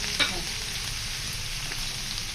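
Chopped tomatoes and garlic frying in oil in a pan for a cabbage keema dish, a loud continuous sizzle with a stirring scrape near the start.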